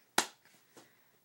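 A single sharp hand clap rings out near and clear, followed by a couple of much fainter soft taps trailing off in a quiet room.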